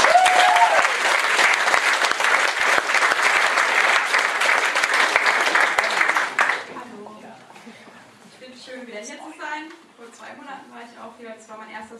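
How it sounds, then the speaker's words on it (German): Loud, dense audience applause at a poetry slam, sustained for about six seconds before cutting off, after which someone speaks alone. "Bitte einen ganz warmen, lauten Applaus für Marsha Richard"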